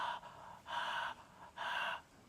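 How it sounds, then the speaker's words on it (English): Ujjayi pranayama throat breathing, a soft ocean-like hissing breath repeated in three slow, even waves, close and quiet with no talking. "like an ocean sound, like a healing sound, like a nectar is activating through Vishuddhi chakra"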